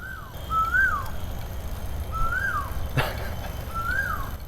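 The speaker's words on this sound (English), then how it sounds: "that's the old bird we used to hear in our apartment in Chiang Mai, Thailand." A bird repeats a clear, rising-and-falling whistled call three times at steady intervals, fairly loud against a soft background hum, with a brief knock in between.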